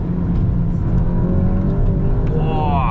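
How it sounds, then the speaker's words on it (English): An Mk8 Golf car loses traction in a brief wheel spin on the Lakeside Park race track, its engine roaring and revving steadily from inside the cabin, then rising in pitch toward the end as it accelerates. "Whoa, a bit of wheel spin there."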